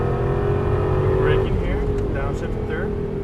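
An Aston Martin V8 Vantage on a Las Vegas race track, its engine a steady, loud drone as it brakes hard into a corner, with an instructor's voice coaching over the top.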